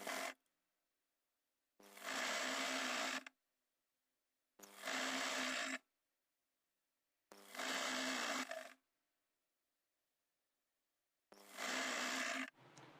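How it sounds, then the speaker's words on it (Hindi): Sewing machine stitching a trouser seam in five separate bursts of about a second each, separated by near-silent pauses, close and clear. "अब हम इसमें भी ऐसे ही ऊपर तक सिलाई लगा लेंगे आधे इंच मार्जिन लेके"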